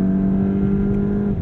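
A 2022 Volkswagen Golf GTI with 241 horsepower accelerates, a loud, close, steady engine drone with a strong low hum holding for about a second and a half.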